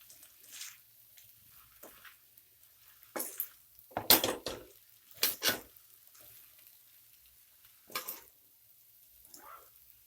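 Spoon stirring veg noodles in a pan: quiet scraping and clinking strokes of metal on metal, irregular bursts with a louder cluster near the middle, otherwise faint and alone.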